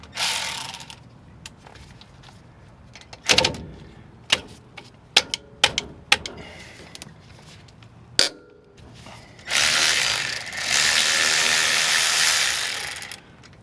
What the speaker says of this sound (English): So we're using a 3/8 electric ratchet, and we have a 13mm socket